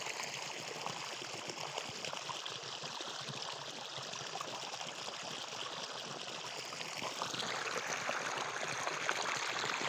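At night, irrigation water runs steadily into a sugarcane field, a continuous, even rushing wash with no pauses, growing slightly fuller toward the end.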